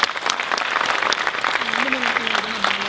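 An audience at a film trailer launch event claps steadily, a dense, close round of applause with a voice talking over it.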